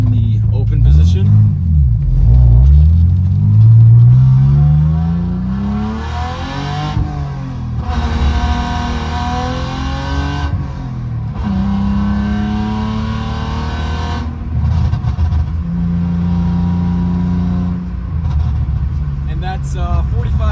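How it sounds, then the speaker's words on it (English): BMW E46 with a Turner Motorsports valved catback exhaust, valve open, droning and rumbling loudly from inside the car as the engine rises and falls through several gear changes, with revs sweeping up and settling at a cruise. "So this is me driving with the valve muffler in the open position."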